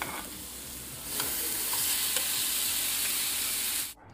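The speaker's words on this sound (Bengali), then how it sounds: "মশলাগুলো দিয়ে দিয়েছি, দিয়ে এখন আমি ভালো করে কষিয়ে নেব" Tomatoes and spices sizzle and are stirred in a pan for a Bengali fish curry, a steady close hiss with light scraping strokes that cuts off at the end, with no talk.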